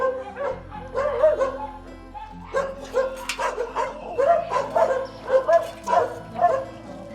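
Several dogs at a dog refuge in Madagascar barking and yipping in quick repeated bursts, close and fairly loud, the barks overlapping in an uneven rhythm.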